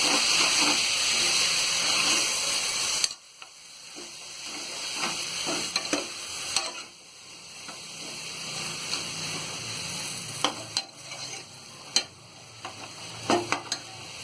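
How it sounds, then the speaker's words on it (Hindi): Potatoes and eggplant stirred in a hot pan for hotel-style sambar, a steady frying sizzle broken by scraping spoon strokes and sharp clinks against the pan, with no talking. "और ये बैगन, और इसे हम अच्छी तरह चला लेंगे।"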